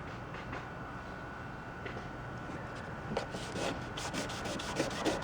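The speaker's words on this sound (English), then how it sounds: "As I'm sanding, see the clear coat here is coming away." Steady abrasive rubbing of sanding peeling clear coat off a car door, continuous and close, growing slightly louder and scratchier toward the end.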